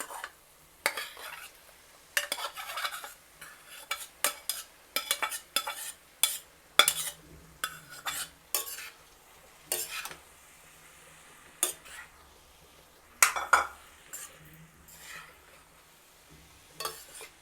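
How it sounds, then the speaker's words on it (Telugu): Boiled beetroot pieces being stirred into a pan for mess-style beetroot fry, with scattered metal spoon clinks and scrapes against the pan over a faint sizzle. "బాగా కలిపిన తర్వాత మనం ఉడికించుకున్నాం కదా బీట్రూట్ ముక్కలు, వీటిని వేసేసి కలపాలి"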